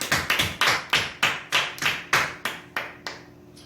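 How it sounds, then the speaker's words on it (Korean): Claps from a church congregation at a Sunday worship service, heard as about a dozen sharp, separate strikes in a steady rhythm, close and fairly loud, thinning out at the end. "우리 하나님께 영광의 박수를 돌리시겠습니다."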